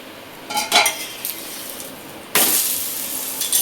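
Poha thalipeeth flatbread roasts on an oiled pan, with a few light utensil clinks and scrapes followed by a sudden burst of louder sizzling as oil hits the pan, continuing steadily to the end.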